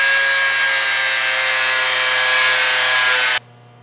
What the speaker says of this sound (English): So it's time to round off a dowel rod.